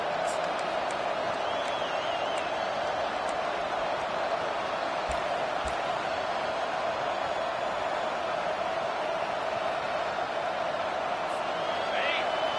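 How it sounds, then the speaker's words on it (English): Stadium crowd in the video game Madden 25 gives a steady, dense roar through the whole stretch as fans try to help their defense, with faint whoops and cheers on top. "Listen to this crowd just shaking the girders of this place, trying to help their defense."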